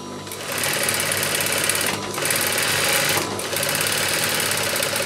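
A sewing machine runs at speed stitching a 3D fabric face mask, a loud continuous close whir broken by two short pauses as the seam is locked and continued.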